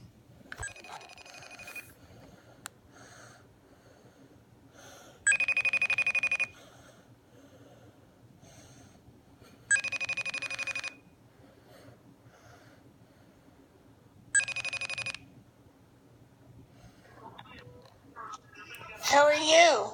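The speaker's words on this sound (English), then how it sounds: "Making a FaceTime call to Mimi." An outgoing FaceTime video call rings on a phone, its electronic tone sounding in three evenly spaced bursts about four seconds apart over a quiet room, with a brief higher sound at the end.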